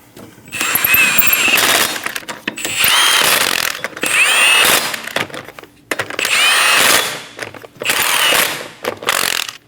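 A power tool runs the wheel lug nuts down on a 2008-2015 Scion xB in five loud, close bursts of whirring and rattling, each lasting about a second or two with brief pauses between.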